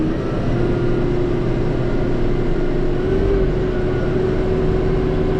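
A Mahindra 6065 PST 4x4 cab tractor drives along, its engine giving a steady, even hum with a sustained mid-pitched drone, heard from inside the quiet cab without speech.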